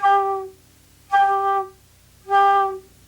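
Three short, punchy notes on a flute played in the traditional Irish style, each blown with a percussive diaphragm push and breathy edge, evenly spaced and heard up close with no other sound.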